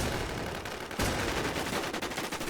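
Loud, dense video-game gunfire in the shooter Warz: a sustained automatic burst of rapid shots with a sharp onset partway through, filling the whole clip up close and heard alone without talk.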